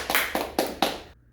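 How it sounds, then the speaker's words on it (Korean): Four sharp, evenly spaced bursts of clapping from a seminar audience, like short rounds of applause from a nearby crowd, then quiet. "큰 박수 부탁드리겠습니다"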